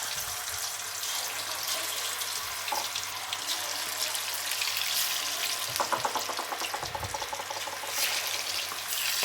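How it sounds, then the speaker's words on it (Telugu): Chicken 65 pieces deep frying in hot oil in a pan, a steady loud hiss and crackle of bubbling oil throughout, with brief stirring or clinking sounds partway through. "ప్యాన్ పెట్టేసుకొని డీప్ ఫ్రై చేసుకోవాలి."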